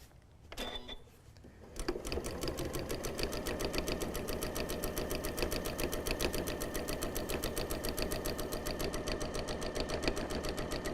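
A sewing machine stitches the edge of a spring-inspired fabric napkin in a fast, even, continuous run, following a brief pause and a few clicks at the start.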